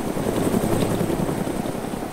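Helicopter in the DayZ game, a steady close rotor and engine drone with a faint rhythmic blade chop, loud and continuous with no talk.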